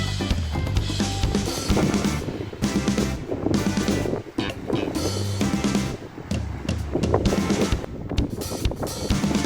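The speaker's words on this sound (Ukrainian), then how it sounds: "Як красиво пливе катер по морю, білесенький по синьому морю." A white motorboat engine hums steadily over the Black Sea off Odesa, with rushing wind noise against the microphone, continuous and fairly loud throughout.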